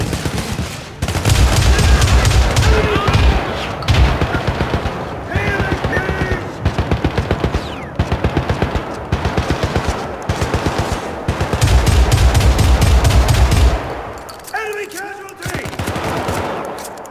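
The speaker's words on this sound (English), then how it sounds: "A turret is making short work of them." Syndicate turret gunfire in rapid, loud, sustained automatic bursts broken by short pauses, with heavier thumping impacts mixed in and a brief gap near the end.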